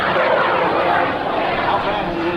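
A Bud Light micro jet with a micro-turbo engine roars at an airshow, a steady broadband whoosh with no clear breaks across the whole moment.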